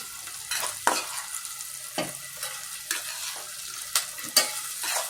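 Prawns marinated in salt, chili, turmeric and ginger-garlic paste are dropped into oil, giving bursts of sizzling with intermittent stirring scrapes and clinks between quieter hissing stretches, close by.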